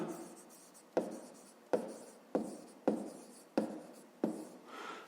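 Pen writing by hand on paper while working a fifth-grade math exercise: a series of about seven distinct scratchy strokes, each starting sharply and fading, close and quiet.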